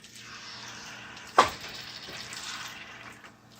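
Boti kabob meat frying in a pan, a steady close sizzle running throughout with one sharp louder burst of spitting partway through, no talking.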